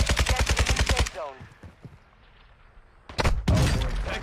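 Rapid bursts of gunfire from a shooter video game hammer away loudly for about a second, drop to a quiet lull with faint in-game noise, then erupt again into dense, sustained shooting.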